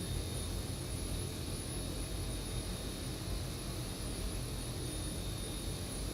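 A Zibo 737-800 airliner on landing approach in the X-Plane 12 flight simulator gives a continuous, even jet-engine roar with a faint high whine, steady throughout with no voices.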